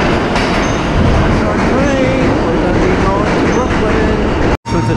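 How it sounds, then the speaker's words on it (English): A train pulls into a station with a loud, continuous rumble of wheels and carriages, thin metallic squeals rising over it, and the roar cutting off briefly near the end. "Just waiting for our train."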